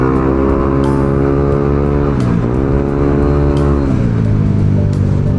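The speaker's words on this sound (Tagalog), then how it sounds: "Oh, may raider dito sa likod natin oh." Loud, close engine drone of a vehicle on the road with a Suzuki Raider motorcycle riding behind it, rising and falling through gear changes and revs, with faint ticking over the steady roar.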